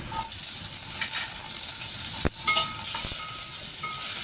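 White parts of onions sizzle steadily in a hot pan with oil and a pinch of salt, a constant bright frying hiss broken by a few light clinks and stirring scrapes.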